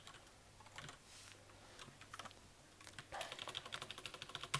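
Someone types quietly on a computer keyboard, scattered keystrokes at first, then a quicker, steadier run of clicks toward the end, with no talking.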